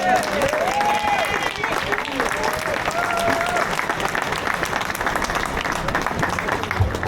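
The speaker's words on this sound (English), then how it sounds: "round of applause" Hundreds of protesters at a Glasgow rally against digital ID applaud a speaker, producing sustained, dense clapping and crowd noise throughout, with a voice faintly audible beneath in the first few seconds.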